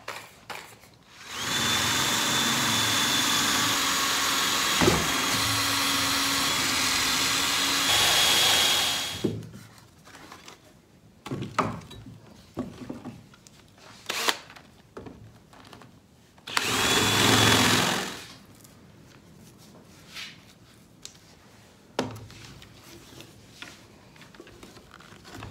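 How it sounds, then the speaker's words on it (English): A power drill bores holes in wood for a worktable sawmill, with two sustained whirring bursts of about eight and two seconds, separated by quieter clicks, knocks and handling noises. "I'm just going to drill every one of these out."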